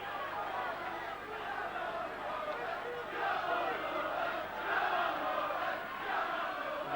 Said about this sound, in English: The shouts are of "Come on Rovers" from the whole Kingston Rovers crowd